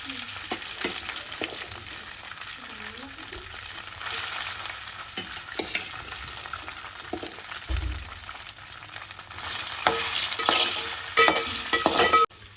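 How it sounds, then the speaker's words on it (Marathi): Sabudana khichdi with chillies frying in a pan, a steady loud sizzle with occasional stirring scrapes that swells louder toward the end, with no talking. "शाबुदाना खिचडी बनवते मिरची टाकली आहे"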